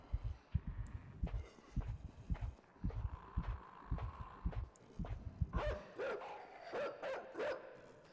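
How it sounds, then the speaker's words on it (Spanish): A heartbeat pulses in the dark puzzle-platformer game Inside. It is a steady, muffled double thump repeating at a regular rhythm, and brighter scuffling game sounds join near the end. "Es como se escuchan los latidos del corazón"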